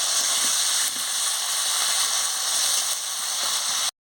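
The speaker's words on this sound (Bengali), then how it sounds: "ভালো করে আলুটাকে আমি ভেজে নিচ্ছি" Steady, bright hiss of potatoes frying in hot oil fills the whole clip at close range, constant and loud until it cuts off abruptly near the end.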